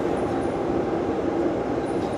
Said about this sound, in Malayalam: മറ്റൊരു ട്രെയിൻ ഇപ്പോൾ പോവുകയാണ്